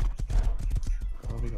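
Horse hooves clip-clop in the Rust console video game, a quick, steady rhythm of hoofbeats running under people talking over one another.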